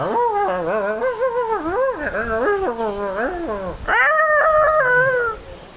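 A person imitates dogs with a run of wavering, howling yelps and whines, voiced continuously, ending in a long rising howl.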